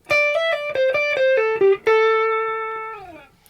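A distorted electric guitar rips through a fast minor pentatonic pattern 3 lick, several picked notes in a row, ending on a long sustained note that wavers and dies away.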